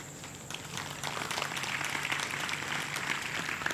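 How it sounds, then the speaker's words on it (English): An audience of Tamil people breaks into steady clapping, a dense crackling patter that swells after a quiet start and continues evenly at moderate distance. "All Tamil people are clapping."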